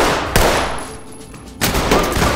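Loud, close gunshots in the tactical shooter Ready or Not during a gas station standoff, two sharp bursts separated by a brief lull.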